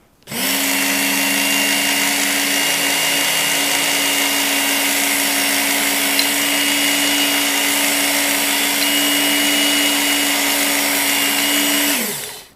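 A Work Sharp WSKTS electric knife and tool sharpener grinds a rough, burred knife blade, its motor holding a steady, loud whine with a gritty abrasive rasp from start to finish before spinning down.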